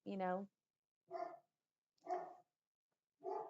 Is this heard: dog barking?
yes